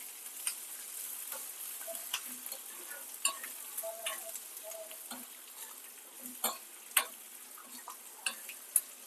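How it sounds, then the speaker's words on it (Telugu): Cashews, curry leaves, ginger and green chillies fry in a pan, giving a soft steady sizzle broken by scattered crackles and pops and a few small clicks. The sound is faint and close. "కాజు లైట్గా ఫ్రై అవుతుందండి"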